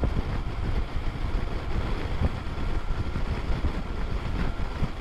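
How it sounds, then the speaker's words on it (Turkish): Steady, strong wind roars and buffets against the microphone throughout, a dense rushing noise with no speech, while riding a BMW R1150RT motorcycle. "Bayağı rüzgar var ya."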